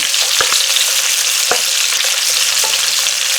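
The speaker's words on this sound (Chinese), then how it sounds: "单单的用猪油容易糊，所以加一点素油去煎它" Fish fries with ginger slices in hot lard mixed with vegetable oil, a loud, steady sizzle broken by a few sharp clicks of a utensil; no one speaks.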